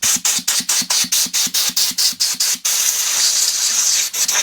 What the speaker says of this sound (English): A little bit of a soak with WD-40.